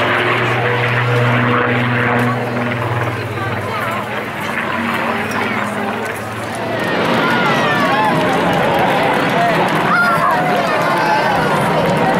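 Aircraft passing on a final fly pass at the Clacton Air Show in 2014, a loud engine roar that builds and sweeps past, heard under a commentator's voice over a loudspeaker and crowd noise.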